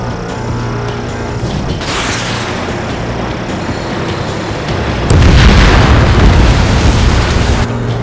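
An enemy bomber explodes after being shot down in the jet combat game Ace Combat 7: Skies Unknown. A loud, broad rumbling blast swells midway and sustains over continuous engine roar.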